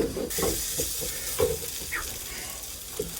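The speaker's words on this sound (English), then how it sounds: "Just keep stirring until the flour is incorporated and the butter is completely melted." Flour being stirred into melted butter in a pan gives a soft sizzle with intermittent scraping strokes of a spoon, close and moderately quiet, with no talking.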